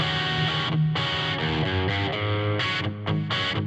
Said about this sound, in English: I started off with this basic guitar riff that I had